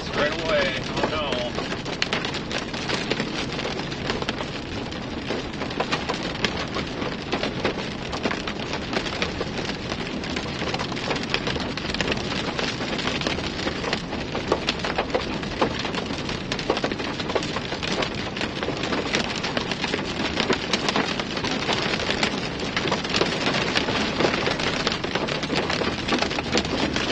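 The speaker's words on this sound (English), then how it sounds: "Oh no, guys, we got pea-sized hail." Pea-sized hail pelts a storm chaser's car in a dense, loud, unbroken clatter on the roof and glass, steady for the whole stretch.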